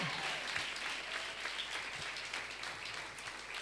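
A church congregation claps and applauds at a concert, a soft, sustained patter of many hands heard faintly from a distance.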